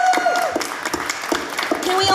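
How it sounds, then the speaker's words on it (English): Audience applause at a convention panel, steady clapping from a crowd under a voice talking over it, with scattered sharper claps throughout. "And again, can we get a big round of applause for Chipper for putting on this panel?"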